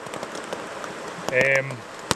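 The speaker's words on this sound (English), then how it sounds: "Just got the tarp up straight away, just for a break from this rain and to cover the gear" Rain falling on a camp in Cairngorm National Park, a constant close patter on surfaces with a brief tonal sound partway through.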